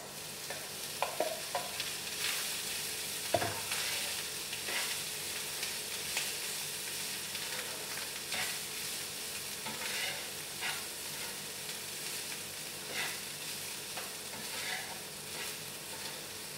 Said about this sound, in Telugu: ఇప్పుడైతే ఫ్రై చేసేసుకుందామండి.